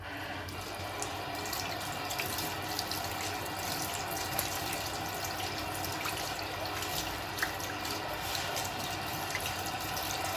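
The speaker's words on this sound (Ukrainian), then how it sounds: "і промиваю холодною водою" Cold tap water runs steadily over boiled broccoli in a colander, a continuous splashing rush with faint drips and clinks underneath.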